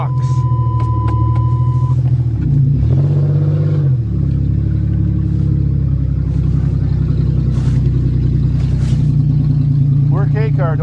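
A fuel-injected Pontiac or Chevy car engine idles after a cold start on a November morning, a loud close steady rumble with a brief dip and recovery partway through.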